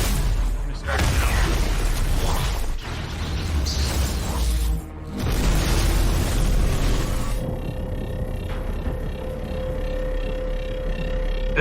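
Cartoon sound effects from Invincible as a cannon from space strikes Omni-Man: dense, loud, roaring blasts and crashing bursts with brief dips, settling into a lower rumbling tail with faint mechanical tones.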